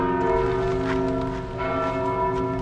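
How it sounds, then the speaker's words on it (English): Church bells ring in Stockholm at the former Clara Monastery site, several bells sounding together in a sustained, resonant, fairly loud peal that carries across the street without any talk. "listen to the church bells now."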